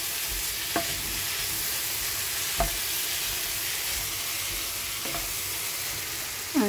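Long beans tossed into spiced oil for a Bengali home-style dish give a soft steady sizzle, with a few sharp stirring knocks from a spatula against the pan spaced out over the frying.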